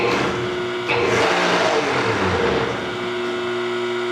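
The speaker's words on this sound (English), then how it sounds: "Now we just do is turn the motor on." The electric motor on a homemade hydraulic shop press, fed by a running phase converter, hums steadily and loudly, with a steady whine and slight fluctuations throughout.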